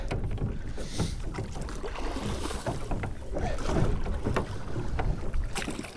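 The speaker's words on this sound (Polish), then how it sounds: "Płyniemy dosłownie tutaj kawałek za tą wyspę." A small fishing boat moves across a lake toward an island, its steady rushing water noise mixed with gusty wind buffeting the microphone, loud and continuous with no speech.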